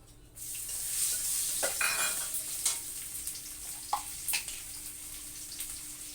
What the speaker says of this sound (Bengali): শুকনো লঙ্কা ফোড়ন দিয়ে দিচ্ছি আর এই দেখো রসুন রসুনটাও ফোড়ন দিয়ে দেব